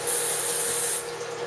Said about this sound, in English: Next, we're gonna rinse off our jalapeno peppers.